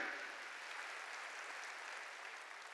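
A church congregation claps hands together in a dense, even patter of applause that stays steady and moderately quiet throughout.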